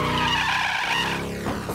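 A car skids on a rain-flooded road in Mafia: Definitive Edition, a loud, sustained tire squeal with engine roar that holds steady, then tails off into a short scrape near the end.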